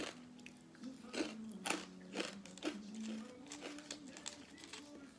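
Someone eats rice noodles with crispy pork rind chili paste, giving repeated close crunchy bites and chewing in an uneven rhythm, with faint voice sounds mixed in.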